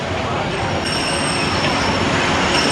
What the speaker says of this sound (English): can't remember the last time I actually rode the monorail here at Disneyland